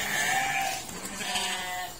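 Sheep bleat in a pen ahead of being bathed, a couple of loud, wavering calls close by, with no talking.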